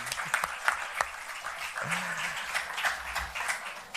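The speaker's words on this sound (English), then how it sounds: "A big round of applause for him" Audience applause for Salman Khan as chief guest at a book launch event, a steady dense wash of clapping from a crowd, moderately loud and continuous, with a few louder individual claps standing out.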